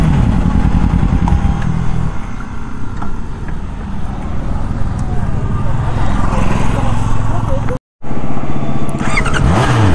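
A CVR 650 motorcycle ridden on a road in India, with a loud continuous engine drone and heavy wind rush throughout, briefly cutting out near the end before resuming.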